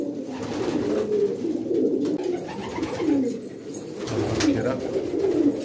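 A white bar pigeon coos repeatedly at close range, low soft rolling calls recurring every second or so over a constant background hum, with faint voices in the distance.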